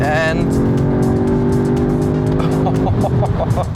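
Tuned 2021 Audi S3 with four-wheel drive accelerating hard down a straight toward the rev limiter, a loud sustained engine drone with rising harmonics close by, ending in a few clipped pulses like limiter bounce.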